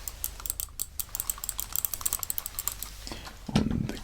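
Rapid, close keystrokes on a mint green wireless battery-powered computer keyboard tap out in a steady patter, ending with a louder rustling thump.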